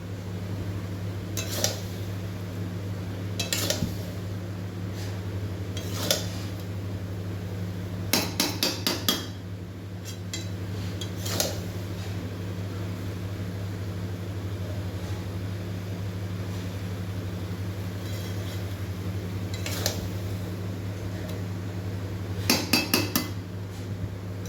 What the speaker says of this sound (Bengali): আর একটু ধনে গুঁড়ো, একটু জিরে গুঁড়ো দিয়ে এখন কষিয়ে নিচ্ছি ভালো করে